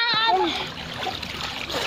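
Water splashing and running as a hotel pool is drained, a steady close wash of sound with a voice over the start.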